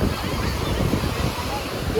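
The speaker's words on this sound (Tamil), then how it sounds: "அடுத்த அலை பெருசா வருது" Steady roar of ocean surf washing in on a beach at Kovalam near Chennai, with wind rumbling across the microphone; a continuous wash of water noise with no clear gaps.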